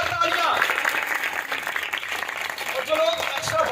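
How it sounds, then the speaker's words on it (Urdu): Church congregation applauding loudly at a Urdu-Hindi holiness service, a steady dense wash of clapping that lasts the whole stretch with voices mixed in. "پاک روح کے لیے زوردار تالیاں"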